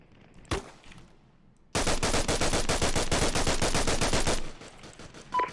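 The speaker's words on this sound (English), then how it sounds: "Shoot at that striker, Lawman." Rapid automatic gunfire aimed at a Striker armored vehicle in Arma Reforger, a loud sustained burst of evenly spaced shots lasting a few seconds, preceded by a single isolated shot.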